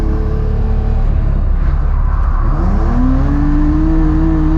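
A drift car engine comes back on throttle at night at Driftland, a loud, close, sustained drone that dips and then climbs steadily in pitch as the revs build.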